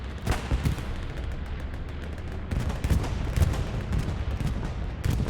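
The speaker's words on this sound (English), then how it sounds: "that's a bad bombing run" Repeated booming explosions from a bombing run in a World War II online shooter match on the Hürtgen Forest map, a dense rumbling barrage of blasts and gunfire that swells and fades across the clip.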